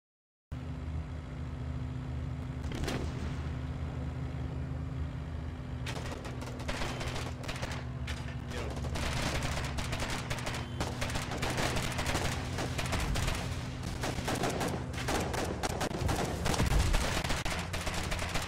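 Rapid gunfire and machine-gun bursts from a military shooter game keep up a dense, loud barrage over a steady engine drone, with bursts growing denser midway.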